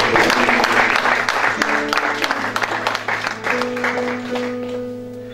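A church congregation applauding and cheering during a service, sustained clapping under a backdrop of music with held tones, loud at first and slowly easing off.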